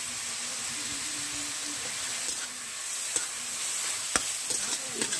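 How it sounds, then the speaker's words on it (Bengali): Ground spices sizzle and hiss steadily in a hot pan for lemon chicken, with scattered scraping stirs and clinks of a spoon growing busier toward the end. "দু তিন মিনিট আমি সব মশলা কষিয়ে নেব"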